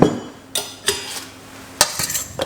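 Chunks of swede tossed in extra virgin olive oil, heard as a few sharp clinks and scrapes of a utensil against a metal or glass bowl, close and distinct with quiet pauses between strokes.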